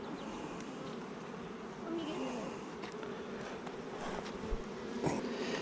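Dense, steady drone of many honeybees at an opened hive during a July inspection, a continuous near buzz with a few brief knocks and rustles on top, and faint voices in the background.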